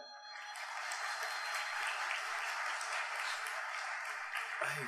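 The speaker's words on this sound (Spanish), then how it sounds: "A John Charles Bravo Medina, el aplauso para él." Sustained applause from a crowd at a graduation ceremony for technicians and technologists, a steady dense clapping that swells quickly and holds loud throughout without talk.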